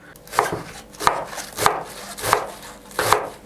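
A knife chops cabbage on a cutting board for a quick salad, five evenly spaced, crisp thuds close by with faint crunching between them.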